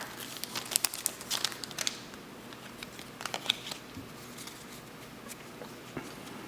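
A Magic The Gathering card pack wrapper crinkles and tears open in quick, close, crisp bursts, busiest at the start, then settles into scattered rustles and handling sounds without talk.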